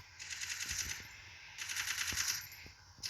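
Gunfire in a video game, shots fired at long range: two sustained rapid bursts of automatic fire, the second after a short pause, with a few sharp individual cracks underneath, fairly faint and with no talk.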